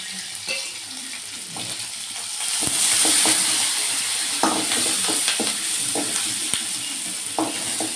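Green chilies and onions fry in hot oil for a tamarind okra curry, a steady close sizzle broken by repeated stirring scrapes and clinks, with no talking.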